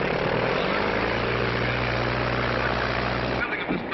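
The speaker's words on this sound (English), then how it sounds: "Bill's going to fly his own plane." Propeller plane taking off in an air race setting, a loud, steady engine drone with a low propeller hum that cuts off abruptly near the end, with a voice talking underneath.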